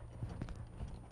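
A horse pulling a stone boat walks with soft, muffled hoof clip-clops in a slow, steady rhythm over low rumbling background noise, fairly faint and without talking.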